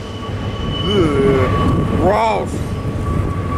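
A freight train rumbles into earshot behind the listener while railfanning at Tehachapi, a steady low roar with rising wheel and horn-like tones; a voice speaks briefly over it.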